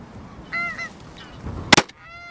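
Geese honk in Orkney, a couple of loud, close calls followed by a sharp burst of noise and a fainter honk trailing off, with no voices.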